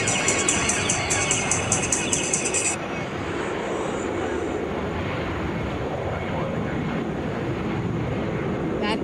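A Delta Boeing 767 at Atlanta International Airport gives off a loud, steady jet engine roar, with a rhythmic high chirping over it for the first few seconds, then a smoother drone continuing alone.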